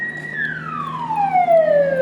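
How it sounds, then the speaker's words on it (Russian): An ambulance siren on a street sounds as a clear, loud, sustained wail whose pitch slides steadily downward as the vehicle passes, heard alone with no talk. "Машина какая-то скорая или что едет?"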